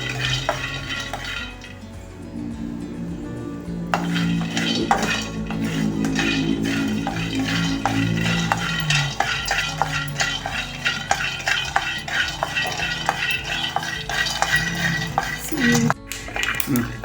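Peanuts dry-roast in a pan while being stirred continuously, producing loud, dense scraping and rattling against the metal with a faint sizzle underneath that runs throughout.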